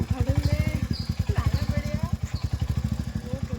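A scooter engine running after starting, with a close, steady rapid putter of firing pulses at idle, while people talk over it.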